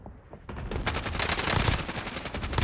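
Sustained automatic gunfire in a Warzone duos match, starting as a few sharp shots and quickly becoming a dense, loud burst of rapid fire that fills the rest of the moment.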